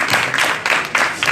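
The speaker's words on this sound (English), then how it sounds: "Let's give another round of applause to Sophia." A conference audience applauds after a keynote, a short burst of dense clapping in a few surging waves, loud and close.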